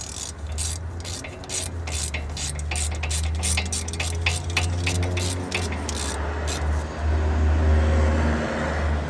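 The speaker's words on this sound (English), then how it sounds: "you tighten all the lug nuts properly in the star formation" Lug nuts are tightened on a 2010 Acura RDX wheel after a front brake pad job, with a rapid train of close, sharp rasping clicks over a low steady hum; no talk.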